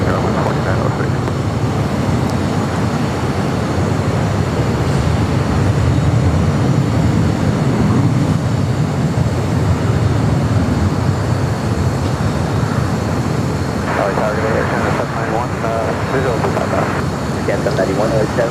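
An airliner takes off from runway 25 right at Los Angeles International Airport, its engines a steady, loud broadband roar throughout, with a rising whine late on and talk running over it.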